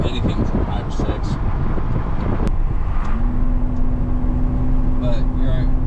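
A first-generation Toyota Tacoma engine fitted with an AirAid intake revs with a low droning hum beneath steady wind buffeting and rustling near the microphone, and the pitch holds fairly even through the second half.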